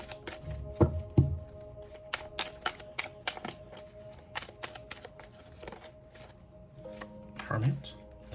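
A deck of tarot cards is shuffled in quick, crisp bursts, with clustered papery riffles and taps spread through the moment and soft handling noises between them, close by.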